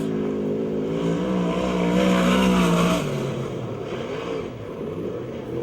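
A USAC/CRA sprint car engine at Perris roars loudly through a lap, its harmonic pitch climbing and holding high before dropping and wavering as the car swings past, close and continuous with no talk.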